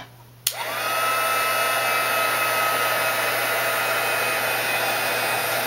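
A heat gun clicks on and blows a steady, close whooshing roar while drying watercolor paint on paper flowers, running continuously after a brief startup.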